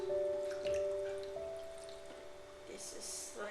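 Water runs and splashes into the bottom of a kitchen steamer, a steady pouring stream with a rising hollow tone and drips near the end, close by.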